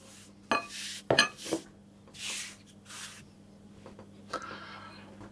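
Flour poured into a plastic food processor bowl, a few soft rustling bursts with light knocks and clinks of the container, close by, over a low steady hum.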